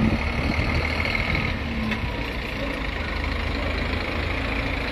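A Viação Cometa coach pulls into the Ribeirão Preto bus terminal and idles, its low diesel rumble steady and close under a busy wash of station noise, with no speech.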